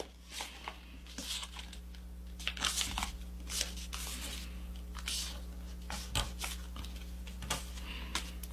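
Paper being folded by hand into an Aerodactyl origami model, with close, quiet crinkling, rustling and sharp creasing sounds in irregular bursts over a steady low hum.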